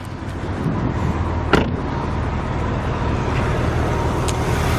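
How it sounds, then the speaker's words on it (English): The 3.6-liter flat-six engine of a 2006 Porsche 911 runs with a steady, dense, loud rumble, a brief sharper burst early on, then a constant drone throughout. "It's one of the sweetest sounding engines, and really that flat 6, it's so distinctive."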